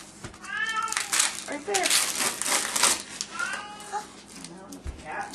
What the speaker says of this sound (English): Now the cat wants to be fed.